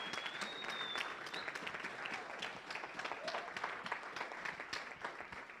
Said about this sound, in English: can you please give another round of applause for Kwame, please?